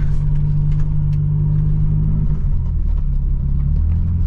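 A 1972 Ford Pinto Runabout's engine pulls steadily in second gear at close range, a loud, even low rumble with a droning hum that dips slightly midway and carries on without a break.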